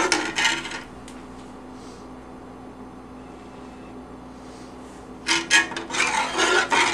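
A spoon scrapes and stirs thick canned soup in a pot for a vegan green bean casserole, giving rasping strokes at the start and again near the end, with a quieter stretch between.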